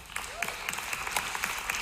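An audience at a motivational talk claps in a steady, moderately loud round of applause, individual claps audible in a quick patter with a faint voice underneath.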